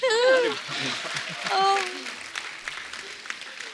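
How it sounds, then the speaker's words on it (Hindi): A studio audience on a TV comedy show, The Kapil Sharma Show, breaks into applause, heard as a wash of clapping mixed with voices and cheering at the start that fades to scattered claps. "जोरदार ताली"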